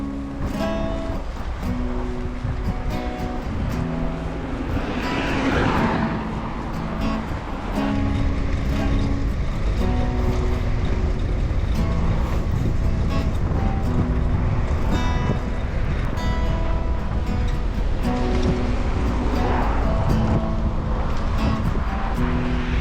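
Traffic on a busy road beside a bike trail, a continuous low rumble of passing vehicles with a louder whoosh of a car going by early on, heard from a moving bicycle under wind buffeting.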